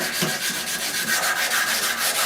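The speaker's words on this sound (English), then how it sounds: "we've got 220 on here. This is that sandpaper that doesn't load up from Lowe's." Hand sanding an upright bass with 220-grit sandpaper, a close, rhythmic scratchy rubbing of quick back-and-forth strokes, with no talking.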